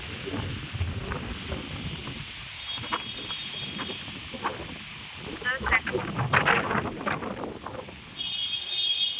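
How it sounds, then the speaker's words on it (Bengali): Gusty wind buffeting the microphone in uneven rumbling bursts, with a person talking over it. "প্রচণ্ড হাওয়া দিচ্ছে প্রচণ্ড হাওয়া দিচ্ছে"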